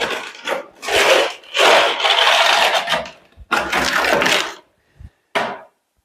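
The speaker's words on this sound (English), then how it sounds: "so we get our bucket trowel now" A bucket trowel scrapes through slaked lime in a mixing tub, giving loud, close, rough scraping strokes in separate bursts broken by short silences and a few knocks, with no talk.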